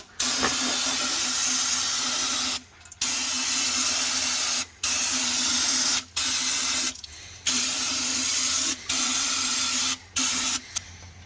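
Cleaner sprayed into the gearbox of an International Travelall, a loud steady hiss in long bursts cut by short pauses, about seven sprays in a row.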